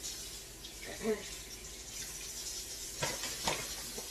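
Hot water running from a kitchen tap while hands are washed, a faint steady hiss of flow with a few splashy bursts, quiet and close, with a voice speaking over part of it.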